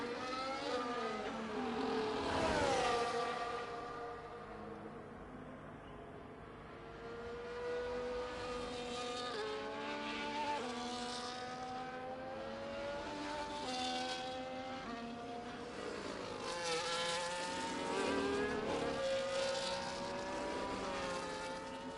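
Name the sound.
race car driving in a sim racing video game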